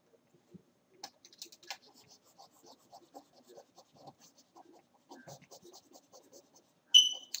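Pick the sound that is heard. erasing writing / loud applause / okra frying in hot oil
erasing writing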